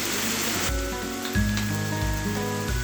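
Chicken filling sizzles steadily in a pan with garlic powder, a continuous close hiss broken by a few faint scraping stirs.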